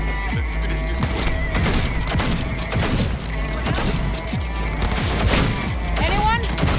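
Rapid gunfire from a Cyberpunk 2077 firefight, bursts of automatic shots and booms crackling continuously over a dense bed of game music and effects, with voices mixed in.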